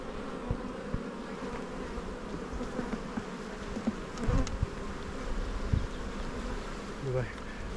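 Honey bees buzz steadily around a large spring colony, a dense close hum with a few louder passes near the hive.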